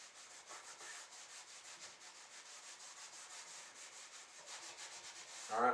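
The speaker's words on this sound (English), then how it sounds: "I'm just going to dip my rag right in the lard, and then rub it into the wood." Faint, continuous rubbing of a rag working melted lard into the wooden bottom of a box, soft and close, with a slightly louder scrape at the end.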